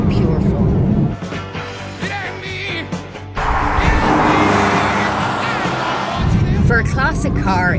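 A Porsche 911 Carrera, 321 horsepower, roaring close by as it drives and accelerates, engine note rising and falling with a loud surge partway through, while people talk over it.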